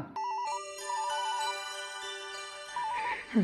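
A phone ringtone chimes with a repeating electronic melody, fairly loud and close, playing continuously for a few seconds.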